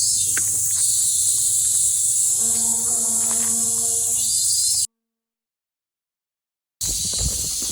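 Cicada droning loud and steady as a high, dense buzz that fills the scene, cut by a brief total dropout, with a short tonal whine rising faintly beneath it partway through.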